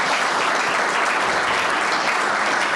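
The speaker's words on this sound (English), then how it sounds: "How about a little applause for Dan?" Sustained, dense audience applause at a rugby town hall event, loud and steady throughout with no gaps, a crowd clapping together without speech.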